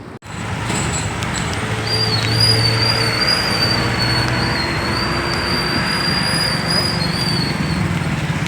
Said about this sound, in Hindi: अभी हमारी गाड़ी पहुंची है शिवरी नारायण के महानदी पुल के पास